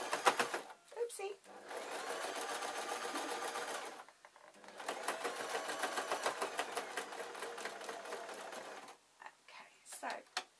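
A sewing machine runs in long bursts while top stitching the handle of a knitting bag, its rapid needle clatter starting and stopping with short pauses between runs, close and fairly quiet.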